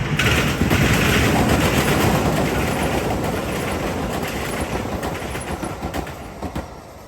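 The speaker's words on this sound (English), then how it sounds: "Really loud clacking over these switches here, which is pretty cool." An MBTA Blue Line train rumbles past near Suffolk Downs, loud and close, with a continuous roar and rapid metallic clacking over track switches that thins out toward the end.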